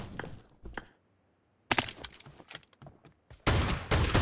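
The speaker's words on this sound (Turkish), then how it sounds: "Adam pompalı atıyor." A shotgun fires in a video game, giving a few sharp blasts early on, then a silent gap, then a dense run of cracking shots, with a loud sustained roar at the end.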